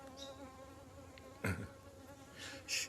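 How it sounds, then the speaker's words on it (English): Bees buzzing outdoors by a lagoon, a soft steady hum with one brief nearby fly-past and a few louder passes, otherwise faint and continuous with no talking. "Ooh, the bees are out."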